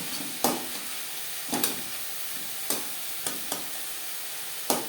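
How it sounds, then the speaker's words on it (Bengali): Fried bori being stirred into beto greens in a pan, with a spatula scraping in distinct strokes about once a second over a soft, steady sizzle. "ভেজে রাখা বড়ি সাজের সাথে বড়ি বেশ ভালো করে মিক্স করে দেব"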